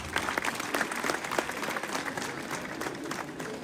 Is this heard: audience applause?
yes